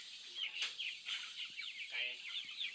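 Chickens on a farm clucking in soft, repeated bursts at moderate distance, several birds overlapping in a continuous low chatter with a few sharper clucks.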